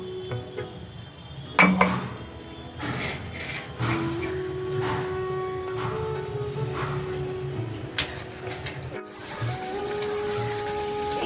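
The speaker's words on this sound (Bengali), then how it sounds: "লাল লঙ্কার গুঁড়ো দিয়ে আমি এটি গরম জল দিয়ে মশলাটি গুলে নেব।" Red chilli powder spice mix is stirred into hot water in a kitchen, giving soft clinks and scrapes of a spoon against a container, faint water sounds and a brief hiss near the end, with no voices.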